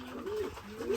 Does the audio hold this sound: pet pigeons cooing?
yes